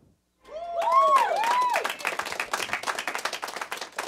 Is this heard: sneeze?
no